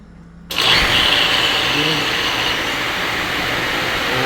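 An electric motor at a refilling station kicks on abruptly after a brief quiet moment, then runs with a steady loud hum and whir that holds evenly to the end.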